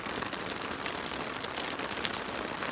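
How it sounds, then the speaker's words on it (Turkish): Heavy rain pours steadily at a campsite in the early morning, a dense continuous hiss of drops pattering on surfaces all around, close and even throughout with no voices. "fena bir yağmur yağıyor ya."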